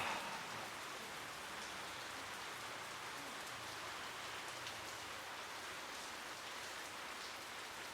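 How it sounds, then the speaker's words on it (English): Steady rain falls in a dense, even hiss with no breaks, soft and continuous, with no talking over it. "Listen to the rain,"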